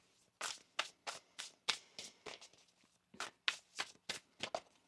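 Tarot cards riffle and snap in quick bursts, two rounds of crisp shuffling close by, quiet and without speech.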